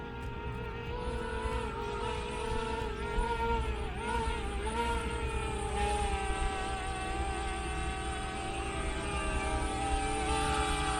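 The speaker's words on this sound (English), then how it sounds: "So here I come, here comes the drone, and I'm bringing it in to land." A DJI Mavic Mini drone comes in to land outdoors near colored sand, its propellers giving a steady high buzzing whine that shifts slightly in pitch as it nears.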